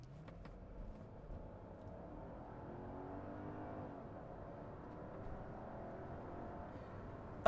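Mercedes SL500 with resonators and exhaust removed, cruising smoothly and accelerating; a steady, muted engine and road hum holds at moderate level throughout, gently rising in pitch with no talk over it.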